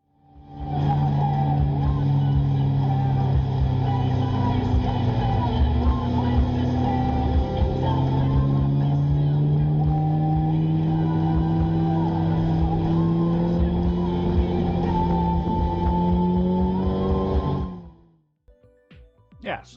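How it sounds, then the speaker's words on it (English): Car engine picked up by a cheap Temu dash cam microphone, a steady droning hum with rising and falling pitch as the vehicle accelerates, loud and continuous for most of the stretch before cutting off near the end. "It picks up the sound of the engine pretty good."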